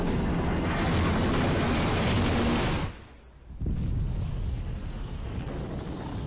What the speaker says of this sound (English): That's a huge explosion. For a theater ship.